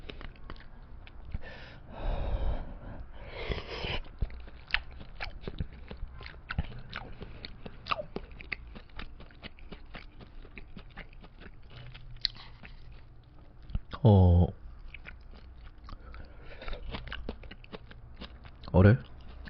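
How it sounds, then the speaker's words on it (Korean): Someone eats hot kimchi udon with soaked tofu pouches, with close, wet chewing and slurping bursts between stretches of a speaking voice, and a couple of louder slurps near the end. "좀 뜨거울 텐데 한번 먹어보겠습니다."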